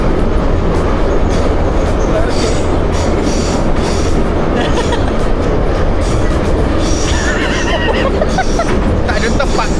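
A crowded underground metro train in Tashkent rumbles through its tunnel, a loud continuous roar with rattling carriages and faint wheel squeals, steady throughout.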